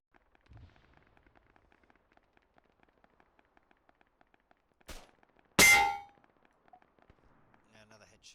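A headshot landing in Arma 3 with a Mk1-EMR marksman rifle: one bright, loud metallic clang-like impact, preceded by a softer crack, standing out over quiet game background.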